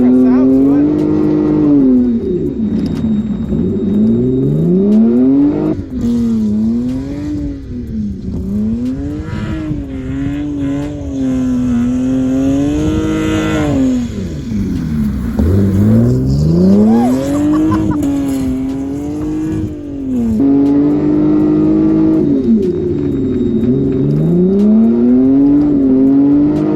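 A Lexus GS300 revs hard and drops off again while drifting after a suspension overhaul, its engine loud and close with rising and falling pitch, tire noise and voices underneath.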